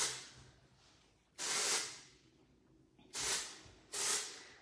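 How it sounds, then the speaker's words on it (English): Three bursts of Fundraiser texture spray hit a section of curly bob hair while it is being pinned, each a loud, close hissing blast about half a second to a second long, separated by quiet pauses. "I like to spray both sides of the section"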